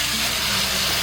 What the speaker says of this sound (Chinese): 这个肉馅我们只需要炒一下，然后给它小火炒，炒出油脂。